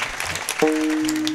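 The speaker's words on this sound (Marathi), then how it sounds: "जोरात टाळी वाजवा एकदा बाबांसाठी." An audience claps at a Hindu kirtan in Hanumanwadi. It is a short, dense burst of applause that gives way to a held musical tone.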